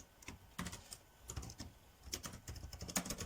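Code being typed on a computer keyboard: quiet, irregular key clicks in short bursts, close by and faint.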